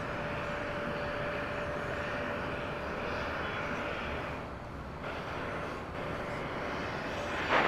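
A heavy UPS cargo jet takes off at DFW Airport at night, its engines a steady, broad roar held throughout at moderate distance, with no speech.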